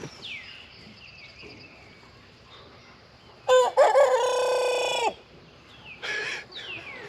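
Young Freedom Ranger roosters trying to crow on a farm: a hoarse, strained, honking crow lasting about a second and a half, then a shorter cracked attempt, with soft clucks and chirps in the background.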